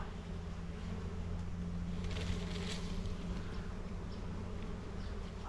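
Swarm of bees buzzing steadily around a hive during an outdoor Thai bee-hunting trip, a dense continuous drone close by with no talking.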